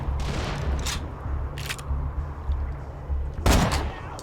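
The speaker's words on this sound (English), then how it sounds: "let's actually do a little sniping" Sniper rifle fire in the Borderlands video game, a few sharp distinct shots over a continuous low rumble of game background noise, the loudest report arriving near the end.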